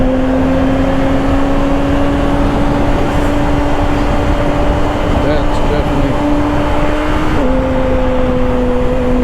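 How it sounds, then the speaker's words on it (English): A 2024 Kawasaki ZX-6R 636 motorcycle on a highway drones at a steady engine pitch under constant wind roar, with a brief dip in tone near the end as the quick shifter snaps through a gear. "That quick shifter felt nice as I was accelerating."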